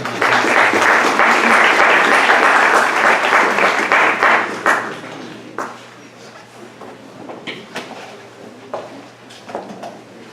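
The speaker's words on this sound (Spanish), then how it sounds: "Démosle un aplauso, por favor, a la doctora Luz María de la Sancha, quien coordina esta sesión." Applause from a hospital audience at a clinical pathology session, loud and sustained for about five seconds, then thinning out into scattered claps and room noise.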